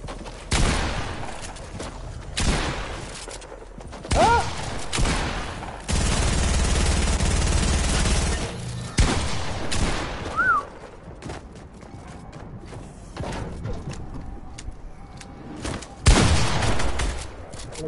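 Rapid gunfire from a shooter video game comes in dense, loud bursts with sustained automatic stretches and scattered single shots, all dominating the sound with almost no talking.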